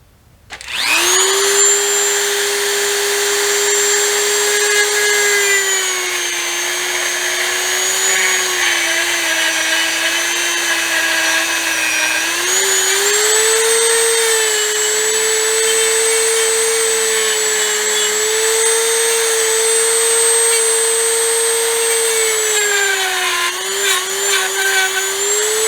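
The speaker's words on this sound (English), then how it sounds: "We'll go ahead and put it in a vise and cut it with our Dremel tool." A Dremel rotary tool cuts a part clamped in a vise, a loud, continuous high-pitched whine that dips and rises slightly under load and runs close for the whole stretch.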